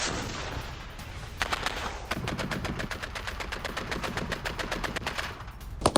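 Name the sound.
gunfire from rebel attack on Syrian Arab Army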